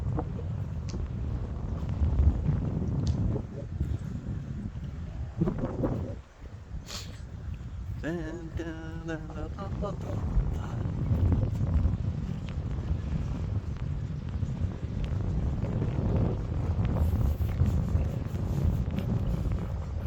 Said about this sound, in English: As you can hear the wind in the background.